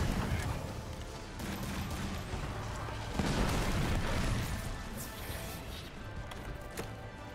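Cannons fire in Monster Hunter World, a dense run of booming blasts and bursts layered over continuous game noise, with one heavier surge around the middle and talk underneath.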